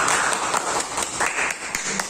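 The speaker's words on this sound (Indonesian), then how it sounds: "Karena ya tepuk tangan dong." An audience claps at a presentation event, a brief burst of fairly close applause that stays steady for a couple of seconds.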